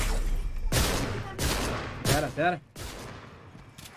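Gunfire in a video game aimed at the player, a few sharp bursts in quick succession over the first couple of seconds, with a voice talking in between.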